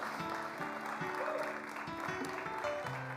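A church congregation applauds during a sermon, with dense, steady clapping filling the whole stretch and sustained musical tones running underneath.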